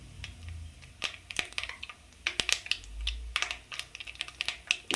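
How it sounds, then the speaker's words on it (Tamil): Mustard seeds sputter and pop in hot oil in a pan, a scattered run of sharp crackles and small bursts at irregular intervals, close by, with no talking. "இப்போ கடுகு போட்டு கடுகு பொரியிற வரைக்கும் வெயிட் பண்ணுங்கள்."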